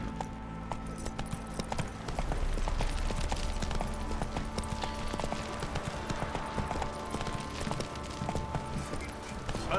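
A horse's hooves clip-clop in a steady, even walking rhythm throughout, moderately close and continuous, in The Witcher 3: Wild Hunt, with faint background ambience and no talk.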